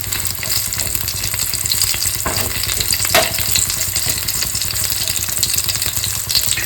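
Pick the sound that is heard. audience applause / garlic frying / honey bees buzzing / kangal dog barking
garlic frying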